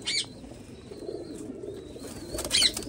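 Soft, low pigeon cooing murmurs continuously close by, with faint chirps and a brief flutter or rustle near the end.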